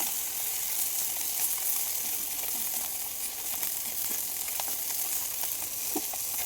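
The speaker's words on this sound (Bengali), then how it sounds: "আরও কিছুটা বাকি ছিল, সেগুলো আমি আবার একই রকমভাবে ভেজে নিচ্ছি" Small puti fish fry in hot oil in a kadai with a steady, dense sizzle and crackle that holds at an even level throughout, with occasional faint stirring.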